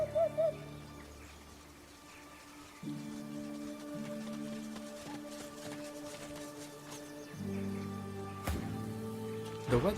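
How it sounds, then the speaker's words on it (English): A war owl in the fantasy video game Divinity Original Sin 2 hoots in low, sustained tones that shift in pitch, set over soft rain-like ambience and game music. "The weather-beaten war owl salutes you with one wing."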